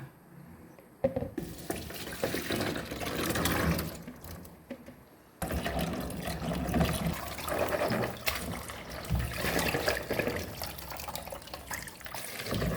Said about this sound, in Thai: เราก็จะมาล้างถั่วเหลืองแล้วนะคะ